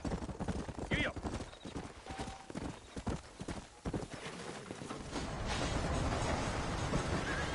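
Hooves clip-clop steadily as a horse trots and gallops across open country in Red Dead Redemption, with a brief whinny near the start, a man calling to the horse over the hoofbeats, and a rising rush of wind and movement toward the end.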